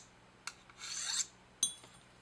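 Deburring strokes on a sharpening stone along a serrated knife edge: a couple of short scraping rasps and a longer gritty stroke, close and fairly quiet, with no voices.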